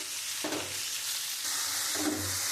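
Turmeric, cumin and chilli powder fry in oil for a rui fish curry, making a steady sizzle broken by a couple of stirring scrapes over a few seconds, with no voices.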